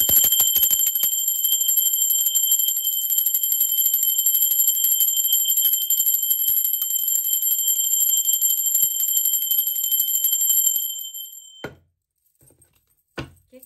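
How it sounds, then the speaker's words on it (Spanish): A meditation bell rings in a rapid, shimmering train of strikes with a bright, sustained tone that runs loud for about eleven seconds, then stops abruptly, leaving a few faint knocks. "Da las gracias con esta frecuencia tan bonita que es la campana."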